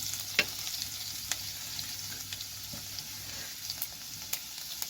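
Chopped ginger fries in hot whole garam masala in a pan, making a faint, continuous sizzle with a few sharp clicks and scrapes of stirring.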